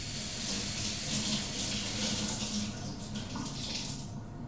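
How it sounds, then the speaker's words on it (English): Water runs from a sink tap to moisten sphagnum moss for mounting orchid keikis; a steady close splashing stream that shifts slightly near the end, with no talk. "I'm going to step over to the sink and moisten my sphagnum moss."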